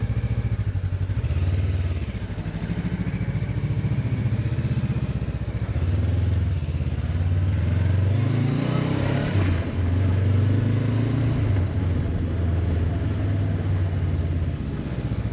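A Honda motorcycle engine rumbles steadily at low speed after warming up, close by, with a brief rise in revs midway and no talking.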